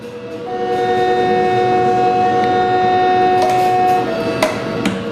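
A high-speed train's horn sounds as a long sustained tonal blast over steady rumbling rail noise, followed by a couple of brief sharp clicks near the end.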